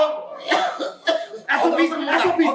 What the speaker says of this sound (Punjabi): ਇਹ ਖਾਂਸੀ ਜਦੋਂ ਵੀ ਕਰਨੀ ਆ ਮੂੰਹ ਅੱਗੇ ਕੁਛ ਰੱਖਣੀ